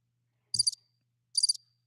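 Crickets chirp twice at night, each a short trilled burst in a quiet, still background with no talking.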